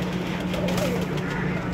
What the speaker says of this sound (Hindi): सेबियां वाला कबूतर है माशाल्लाह